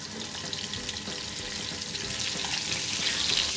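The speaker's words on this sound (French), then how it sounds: "on va commencer à cuire les Saint-Jacques" Scallops fry in a pan of melted butter and olive oil, giving a continuous hissing sizzle that builds slightly in loudness toward the end, close and without voices.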